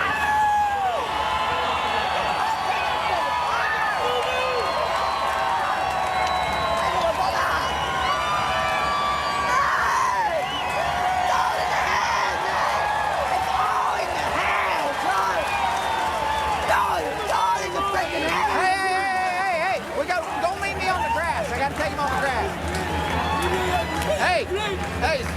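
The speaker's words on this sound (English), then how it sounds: "High fives from all the people at the track. The fans applauding him." Spectators at the 2009 Kentucky Derby racetrack cheering, whooping and applauding in a steady, loud crowd roar, with broadcast commentary talking over the noise throughout.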